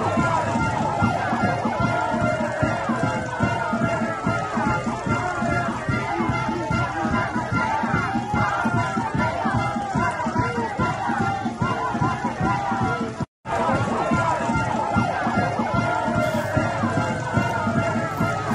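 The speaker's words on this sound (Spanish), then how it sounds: "su discurso fue interrumpido por abucheos y el lanzamiento de huevos por parte de los presentes." Crowd at a union leader's speech, a dense, continuous din of shouting and booing, loud and unbroken apart from one brief dropout, with a rhythmic chanting texture throughout.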